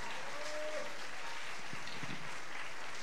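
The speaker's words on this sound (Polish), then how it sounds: "brawa dla wykonawców" Audience at a student rock concert applauding the performers, a steady wash of clapping from the hall with brief talk in the middle.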